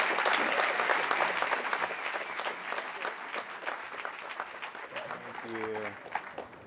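An audience at a panel discussion applauds to welcome the speakers, dense clapping that is loud at first and gradually thins out, with voices rising near the end.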